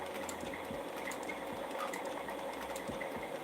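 Sewing machine stitching a crossbody bag, a steady close mechanical whir with a quick repeating needle rhythm and faint clicks, running without pause and no voices.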